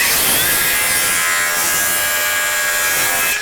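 A power saw cuts through wood on a storm-damaged house roof, one continuous high, buzzing cut lasting a few seconds, loud and close, with no talking.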